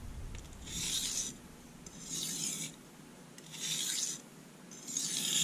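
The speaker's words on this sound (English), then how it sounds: "So we're going to stone strop a little bit" A knife is stone-stropped on a sharpening stone in four slow, even rasping strokes, each a soft, close gritty scrape separated by brief pauses, with no talking.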